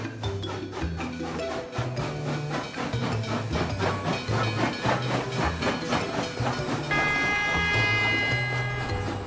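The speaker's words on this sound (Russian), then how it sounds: "Поезд совсем рядом." A toy-style cartoon train rolls along rails with a rhythmic clickety-clack and hissing steam, getting steadily louder as it comes closer, over a musical background.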